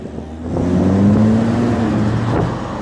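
Steady car traffic on a street at Victoria Park and Shepherd on a weekday morning, a continuous low engine rumble swelling as a vehicle passes close by, then easing off.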